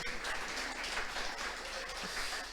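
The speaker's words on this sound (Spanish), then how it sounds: "Damos un fuerte aplauso a nuestro Dios." A church congregation applauds steadily, a dense wash of clapping at moderate volume that holds evenly from start to finish, with no voices rising above it.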